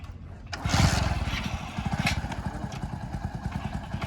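A Hero Splendor Plus 2021 and an HF Deluxe 2017 motorcycle strain against each other in a tug-of-war, their single-cylinder engines rising to a loud, rapid, thumping chug that then settles into a steady pulsing rhythm.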